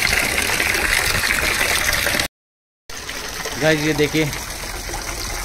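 Water trickling and pouring into a small homemade drinking pool for birds during extreme summer heat, a steady splashing flow broken by a short silent gap, with someone speaking over it.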